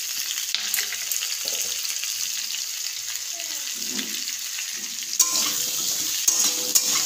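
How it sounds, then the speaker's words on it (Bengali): Spices with turmeric and salt are stirred in a hot cooking pan, giving a steady sizzle with occasional scraping and clinks and a brief rise near the end. "ভালো করে নেড়ে নেব। এর মধ্যে হলুদ দিয়ে দেবো, তারপর একটু নুন দিয়ে দেবো।"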